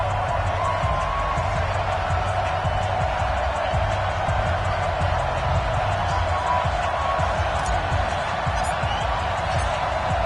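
A steady, dense stadium crowd roar fills an EA Sports NFL video game broadcast of the Carolina Panthers against the Oakland Raiders. The cheering stays loud and unbroken throughout.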